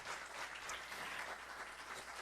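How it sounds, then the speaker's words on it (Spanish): Steady applause from a church congregation during a sermon, a dense, even patter of many hands clapping that holds at a constant level throughout, with no voices over it. "And that deserves an applause."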